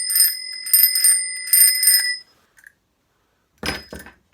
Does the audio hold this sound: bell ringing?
yes